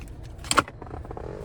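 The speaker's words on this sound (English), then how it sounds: "Finally, here's the key fob with remote start." A key fob with remote start for a 2020 Honda Civic Sport gives a brief, close metallic jingle as it is handled, a single short burst with no talking.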